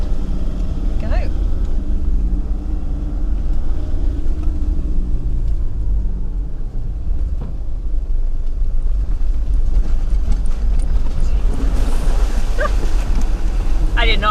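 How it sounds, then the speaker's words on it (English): A car pulls off from a stream crossing at Tambo Crossing, Victoria, its engine rumbling steadily under constant wind buffeting on the microphone, with faint background sounds and a brief louder surge near the end. "Sometimes the car just decides to take its sweet time about getting into gear. And so ran away with itself."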